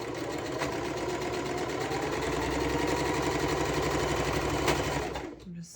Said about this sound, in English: I'm just stitching the scrunchies. I use the tube method.